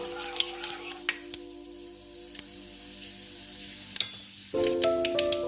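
Mustard, fenugreek and cumin seeds frying in sesame oil: scattered sharp pops and crackles over a soft sizzle, with a louder frying hiss near the end.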